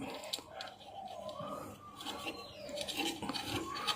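A steady rasping, scraping noise of a saw blade working back and forth, continuous and fairly close for the whole stretch.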